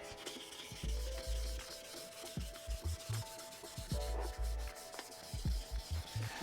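Worn car headlight being wet sanded with 1000 grit sandpaper: close, rhythmic back-and-forth rubbing strokes, about a dozen gritty passes in a steady pattern with no talking.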